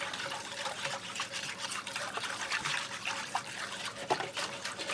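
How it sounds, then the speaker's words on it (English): A gravy mix gets whisked into liquid in a pan over hamburger drippings for a Salisbury steak casserole, a quick, close, wet swishing and sloshing that carries on throughout, fairly soft and with no talking. "So you just want to whisk that in there"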